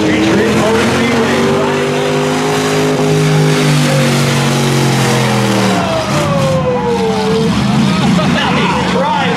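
Race cars at the start of a rocker derby qualifier at a motor speedway roar loudly together, engines revving and climbing in pitch as they accelerate away, a dense continuous din throughout.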